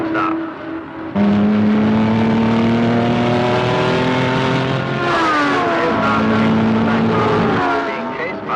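A racing car engine roars loudly and continuously in a 1960s motor race, its pitch shifting as it revs and changes gear, with a second engine layered over it and a voice talking beneath.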